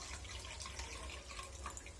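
Water poured into a dish holding a duck marinade of soy sauce, a steady close splash and trickle with no talking.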